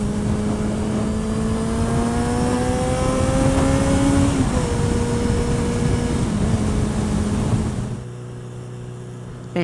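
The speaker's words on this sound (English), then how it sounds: "I can hear the exhaust through the intercom." Engine drone of a Yamaha XJ6F motorcycle comes through a helmet intercom, a loud continuous hum with rising and falling tones as it revs while riding, then dropping quieter near the end.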